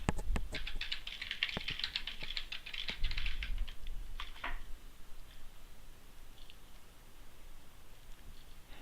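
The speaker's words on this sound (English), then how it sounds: "just type in your username and password" Fingers tap a computer keyboard in a quick burst of close, crisp keystrokes over the first few seconds, then a few scattered taps fade into a faint room hum.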